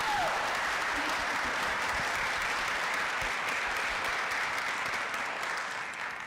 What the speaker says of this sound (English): So give Serenity a round of applause.